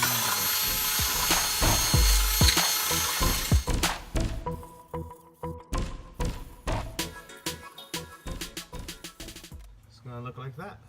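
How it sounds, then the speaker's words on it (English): A power sander smooths the jagged cut edge of a plastic air intake box for a sixth-generation Camaro, a loud, close buzz at first that breaks into uneven bursts and thumps, with people talking. "I'm gonna sanding this."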